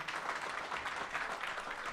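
Comedy club audience at Go Bananas applauding a comedian, a steady wash of clapping that holds evenly throughout without pauses.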